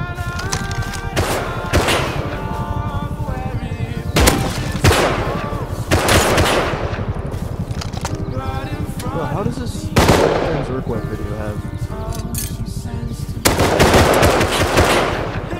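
Rapid automatic gunfire from a turret in the survival game Rust, sustained bursts rattling almost continuously for the whole stretch, with heavier volleys hitting at intervals and a voice faintly underneath.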